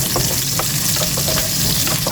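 Garlic, ginger and onion fry together in hot oil while being stirred, a loud, dense, close sizzle with scattered scraping clicks from the spatula over about two seconds, no speech.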